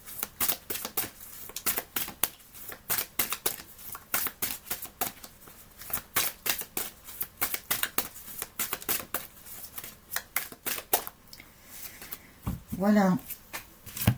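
Large oracle cards are handled and shuffled in rapid bursts of crisp flicking and slapping. A voice speaks briefly near the end.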